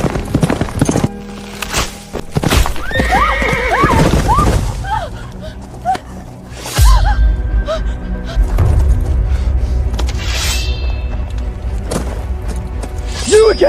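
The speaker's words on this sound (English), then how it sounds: "Fetch me a horse!" A horse neighs and whinnies, then hooves clip-clop and gallop with heavy thuds, mixed with dramatic voices and gasps in a staged period scene.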